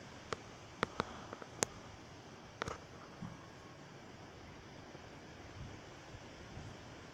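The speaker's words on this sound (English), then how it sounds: "the wind's quite strong now" Strong night wind in Rochester rushes as a faint steady broadband noise, with a few sharp clicks near the start and no talking.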